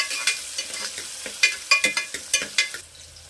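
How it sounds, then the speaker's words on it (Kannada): Finely chopped onion frying in a pan, a continuous close sizzle broken by a quick series of sharp spatula scrapes and taps against the pan. "ಚಿಕ್ಕದಾಗಿ ಕಟ್ ಮಾಡಿಟ್ಕೊಂಡಿರುವಂಥ ಒಂದು ಈರುಳ್ಳಿನ ಸ್ವಲ್ಪ ಫ್ರೈ ಮಾಡ್ಕೊಳ್ಳೋಣ."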